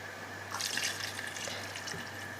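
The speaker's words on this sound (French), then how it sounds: "maintenant j'ajoute le bouillon de bœuf et l'eau" Beef broth, water and white wine poured into a cooking pot, a soft splashing trickle that swells briefly, then fades under a steady background hum.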